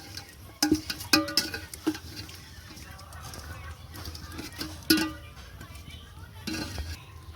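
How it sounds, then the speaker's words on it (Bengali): Biryani meat and boiled potatoes are stirred together in a pot with scattered scraping and clinking strokes of a utensil against metal, close and moderately loud, with low background noise between strokes. "এরপরে এগুলো সব ভালোভাবে একটু মিশিয়ে দেব"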